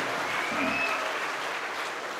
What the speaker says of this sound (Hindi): एक बार दोनों हाथ ऊपर उठाइए और दीर्घायु जीवन के लिए तालियां बजाइए।